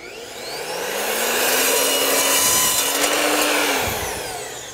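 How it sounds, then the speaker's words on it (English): A hand or power saw cuts through wooden boards for a pergola build, a loud rasping whine that rises, holds and fades as the blade runs through the wood. "Always gonna get a little bit of fraying on the top surface when you're using a saw like this"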